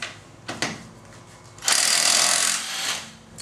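A cordless impact wrench loosening a nut gives a couple of brief clicks and taps, then a loud, steady burst of hammering rattle for about a second before it fades.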